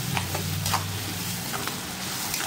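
Ground tomato masala for crab gravy sizzles in a pan with occasional stirring scrapes, a soft continuous frying hiss over a low background hum.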